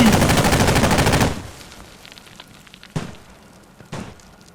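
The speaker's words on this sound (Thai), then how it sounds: "ตรงนู้ยิงกันมาอย่างเมามันครับ" A loud burst of rapid automatic fire from the military shooter game Squad, cutting off after about a second, then two sharp distant single shots over quiet background.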